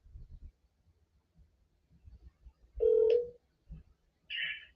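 A phone call being placed: a short, loud steady tone, then a brief higher electronic beep, over faint low background noise.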